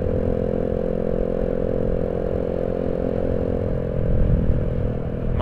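Steady road and wind rumble fills the cabin of a car driving with its window open, picked up on a clip-on microphone, with a continuous roar that swells slightly near the end.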